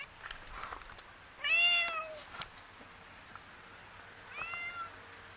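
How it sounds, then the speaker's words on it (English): A cat meows indoors, once fairly clearly and then again more faintly a few seconds later, over a quiet background hum. "the cat won't shut up"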